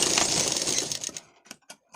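A sewing machine runs a fast, steady stitch on a lined blouse, then stops, followed by a few light clicks and taps near the end.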